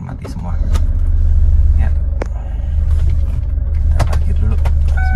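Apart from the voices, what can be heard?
2011 Chevrolet Captiva diesel SUV engine starting and running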